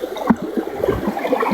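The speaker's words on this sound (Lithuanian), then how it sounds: "Šitas vanduo iš kalnų parbėga" Mountain water running down into a shallow natural pool, a close, steady gurgling trickle with small splashes throughout, heard alone without talk.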